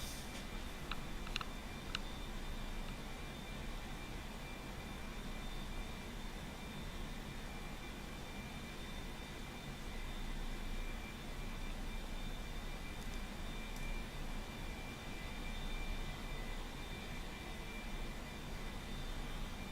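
Steady, even jet engine roar of an A-4E Skyhawk in a flight simulator, a broad continuous hiss and rumble with a faint thin whine over it, holding level for the whole stretch with a few small ticks near the start.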